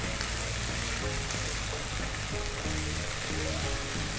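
Ginger garlic paste frying in a little oil for a prawn curry, a steady bright sizzle and hiss with a soft low hum beneath, continuous and even throughout, no talking.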